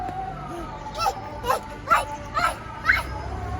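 A small dog on a sailboat barks and yips in five quick, evenly spaced bursts, close and fairly loud, with people's voices faintly in the background.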